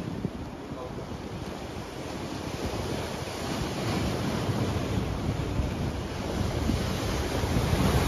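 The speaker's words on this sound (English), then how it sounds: "There's quite a bit of a sea on, actually." Steady roar of sea waves and heavy swell breaking along the shore while fishing from the beach, with constant wind buffeting the microphone and the wash building slightly louder toward the end.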